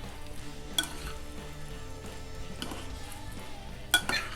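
Pappardelle pasta tossed in a pan with lamb ragu, with a steady low sizzle, soft stirring, and a couple of sharp clinks of metal on the pan near the end.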